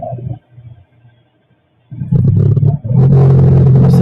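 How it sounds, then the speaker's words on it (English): A vehicle approaching at night is heard first as a faint distant rumble, then after a brief quiet stretch as a loud, close, roaring rumble that grows and fills the second half. "You can hear the rumbling of a vehicle approaching."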